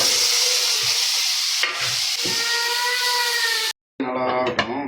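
Tomato being sautéed for a squid gravy in a pan, with a steady loud sizzle and scraping stirs, a brief cut to silence, then more frying and clattering.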